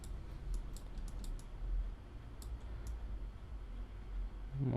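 Light clicks from a computer keyboard, including the space bar, scattered as a few soft taps over a low steady background hum, with no one talking.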